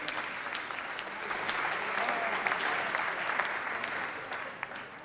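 A studio audience at the Miss France results, broadcast on French TV, applauds steadily. The sustained clapping sounds somewhat distant and soft, with a slight swell in the middle.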